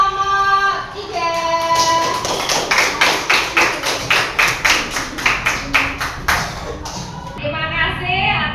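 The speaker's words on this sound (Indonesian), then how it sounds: "Oke, terima kasih tepuk tangan untuk kelompok 3." A classroom of students applauds after group 3's presentation, sharp rhythmic claps that swell into a loud burst, then taper off as scattered claps trail away.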